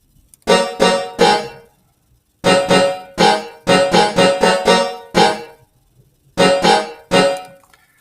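Guitar chords built on a pentatonic scale, strummed in short separate bursts with gaps between, loud and close with no voices.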